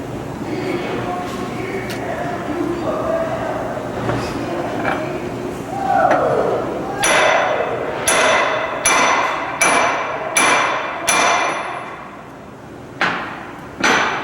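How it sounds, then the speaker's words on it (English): Sharp metallic hammer blows tap a yoke onto a drive shaft, about eight or nine strikes in an uneven rhythm, ringing close over a low background hum. "That's about as far as I'm going to get it on with a hammer."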